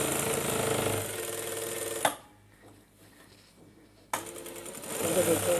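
Sewing machine stitching a second line over a trouser seam, a close rapid mechanical rattle that stops for about two seconds of near quiet and then starts again.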